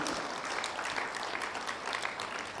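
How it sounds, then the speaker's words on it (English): An audience applauds steadily at a national social protection dialogue event in Uganda, a dense, sustained clatter of many hands clapping, fairly distant, with no talk. "give a warm round of applause and thanks to the Uganda Parliamentary Forum on Social Protection"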